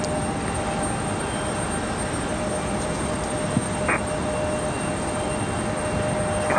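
A Frontier Airbus A321neo lands at Raleigh-Durham from Philadelphia, a steady broadband jet rumble with a faint whine throughout and a few small knocks, heard from a distance.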